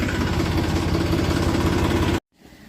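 A tractor engine idles loudly and steadily in a field while a trolley is being loaded with sugarcane, a close, even diesel drone that cuts off abruptly near the end, leaving near silence.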